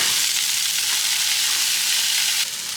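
Vegetables sizzling loudly in a frying pan of bolognese, a dense steady hiss close up that eases slightly near the end, with no talking.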